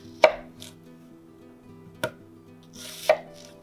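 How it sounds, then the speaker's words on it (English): A knife cuts an onion into quarters on a cutting board. Three crisp, separate chops land about a second apart, close and clear against a quiet background. "I'm cutting my onion into 4 pieces, and then each quarter we'll cut in half."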